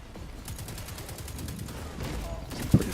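Gunfire in Destiny 2 player-versus-player combat, a steady stream of rapid shots with a louder bang near the end, mixed with game effects and faint speech.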